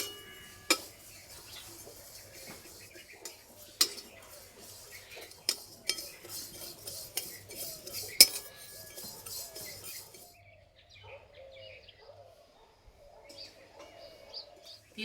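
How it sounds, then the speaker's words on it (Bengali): Sesame seeds dry-roasting in a pan over low heat for til pitha, with repeated scrapes and taps of a utensil stirring them and soft crackling, plus faint bird chirps in the background; no talking. "হালকা আঁচে একটু সময় ধরে ভালো করে ভেজে নেব।"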